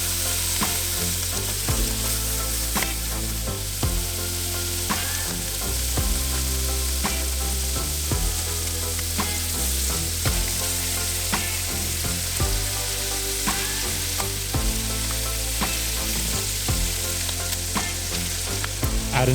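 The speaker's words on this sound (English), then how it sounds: "Next, add in the prawns and cook for about 60 seconds" Prawns fry in butter in a pan with a loud, continuous sizzle and frequent stirring clatter, close up and unbroken for the whole stretch, without speech.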